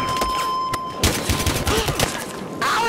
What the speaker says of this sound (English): A sniper rifle!